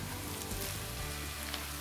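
Onions and potatoes fry in a cauldron (kazan) with a steady, dense sizzle and crackle, close and fairly loud, with no voices.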